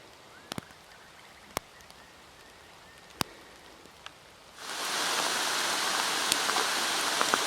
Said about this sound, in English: It's raining a little bit on me